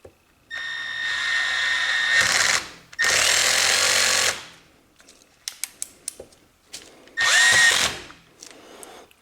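A power driver fitted with a long bit whines in several separate bursts while backing screws out of a Milwaukee 2662 impact wrench housing, with short clicking taps between runs, close and loud.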